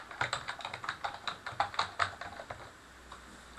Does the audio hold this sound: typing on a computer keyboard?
yes